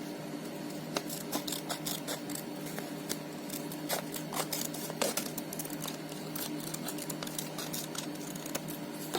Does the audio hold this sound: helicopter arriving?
no